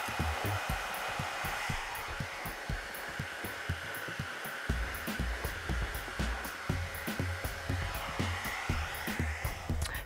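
Hair dryer blowing steadily and close on a classic graduated bob being flat-wrap dried below the occipital, with a continuous airy roar and rapid rhythmic thumping from the brush strokes.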